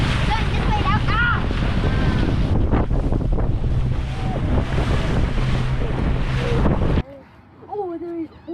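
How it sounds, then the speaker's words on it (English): Strong wind buffeting the microphone and waves rushing past a sailboat on rough water, a loud continuous roar with spray and splashing, voices calling out under it, then dropping abruptly near the end. "There's current, there's wind."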